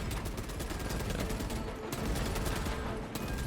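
Heavy bolter gunfire from Space Marine 2 pours out in a dense, unbroken stream of rapid loud shots, filling the whole stretch with roaring automatic fire.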